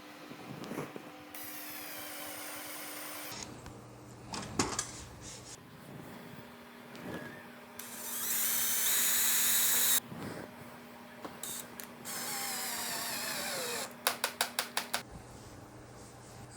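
A drill bites into a wooden workbench top to sink screw heads, giving several short whirring bursts and a longer high hiss, close and moderately quiet, separated by pauses and light clatter.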